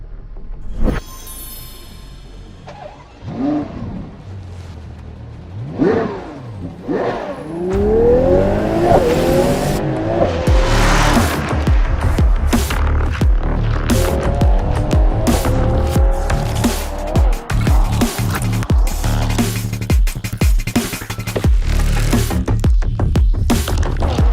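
A Ferrari 12Cilindri Spider's V12 fires up and revs hard on the road, climbing through loud, rising sweeps before settling into a sustained, powerful roar that stays close and dominant.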